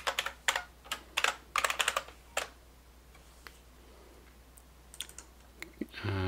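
Rapid bursts of keystrokes on a computer keyboard clatter close up, then thin out into sparse clicks and a quiet pause before a short electronic tone ends the passage.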